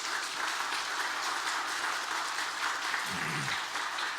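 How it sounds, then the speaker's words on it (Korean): Congregation applause during a Sunday church service, steady dense clapping filling the whole stretch with a brief low voice near the end. "또 박수를 한번 해주시기 바랍니다"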